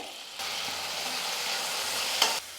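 Onions sizzle in a hot pan as tomato goes in, a brief burst of frying that swells suddenly and holds steady, with a small clink near the end.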